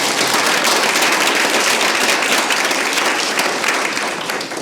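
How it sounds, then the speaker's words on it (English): Loud, dense round of audience applause for a speaker at a Boston event, a continuous wash of many hands clapping that holds steady and eases off slightly at the end. "y'all give him one big round of applause"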